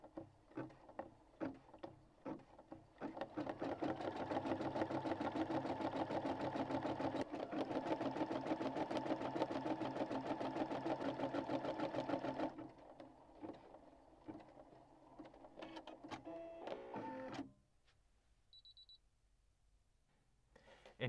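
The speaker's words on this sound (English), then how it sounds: "I will be changing out the thread for a different color, and then we'll start the final embroidery part of this section" Embroidery machine stitching lettering, a rapid steady mechanical rattle of needle strokes running for about ten seconds, then slower intermittent stitching and a stop, quiet and close with no talk.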